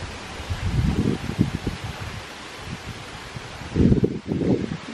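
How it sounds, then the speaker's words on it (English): Strong outdoor wind ahead of a storm, rumbling gusts buffeting the microphone in uneven surges with rustling, a heavy burst near the end. "It's so windy"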